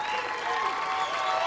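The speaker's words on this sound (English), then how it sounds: "the appreciative crowd cheering on Gary and the winner" Bowling crowd at the 2015 Rolltech PBA World Championship applauding and cheering the champion, a dense, steady wash of clapping and shouts throughout.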